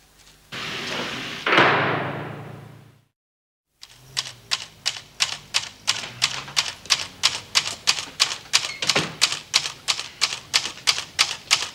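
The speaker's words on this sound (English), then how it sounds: "That typewriter cost a lot of money, Doreen." A typewriter clatters close by after a loud slam and a brief silence, its keys striking in a fast, even run of sharp clacks that carry on to the end with no voices.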